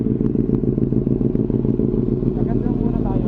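Motorcycles rumble outside Here Cafe in Clark, Pampanga, a dense, steady low engine drone with some clatter, while people talk nearby.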